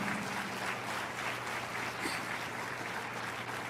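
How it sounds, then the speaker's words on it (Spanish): A church congregation applauding during a sermon, heard as a dense, steady wash of many hands clapping at moderate distance over a low hum, with no clear voices. "Dele otro aplauso al Señor."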